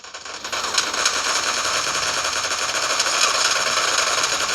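Rapid automatic gunfire in PUBG Lite, a dense continuous rattle of shots that runs steadily throughout, loud and close with no voices over it.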